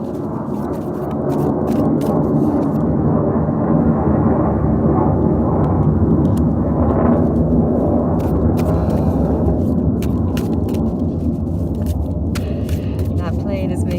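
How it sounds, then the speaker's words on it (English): A very loud airplane passing overhead, a deep, continuous roar that swells early and stays heavy and rumbling across the whole stretch, drowning everything else out. "That plane is making me laugh because it was the loudest plane I have ever experienced in this area."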